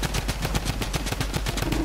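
Drum gun firing in Fortnite, a fast, even rattle of rapid shots close and loud, continuous without pause.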